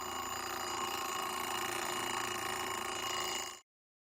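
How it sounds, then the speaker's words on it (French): An electric bell rings steadily inside a glass bell jar as air is let back in, a continuous bright metallic ringing with no pauses that stops abruptly near the end. "Dès qu'on remet de l'air, on entend à nouveau la sonnerie."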